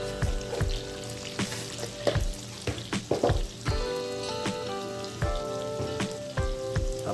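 Tofu frying in a pan with a sprinkle of salt, giving a steady, close crackling sizzle broken by sharper pops and spatters, with a faint tonal hum underneath.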